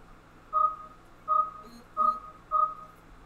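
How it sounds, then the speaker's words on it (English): A phone going off with four short, bright electronic beeps, evenly spaced about two-thirds of a second apart, clear over a quiet low hum. "My phone went off."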